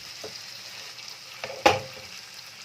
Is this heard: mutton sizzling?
yes